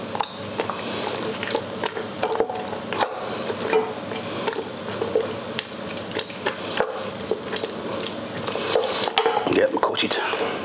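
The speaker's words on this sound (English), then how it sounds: "Just give it a good stir." Pasta being stirred into a tomato mixture in a pot for baked pasta with tomatoes and mozzarella, giving soft wet scraping and clinking, steady over several seconds with faint kitchen noise.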